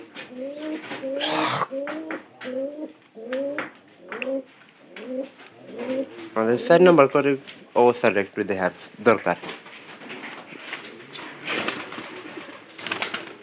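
Pigeons coo in a repeated rhythmic series of soft, low calls near the start, then a person speaks over further cooing and rustling.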